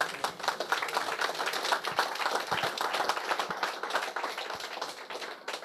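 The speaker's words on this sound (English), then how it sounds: "If we can give them another round of applause" Room of luncheon guests at a public policy and economic empowerment event clapping for a speaker, a dense, sustained patter of many hands at moderate volume, steady throughout with no voices over it.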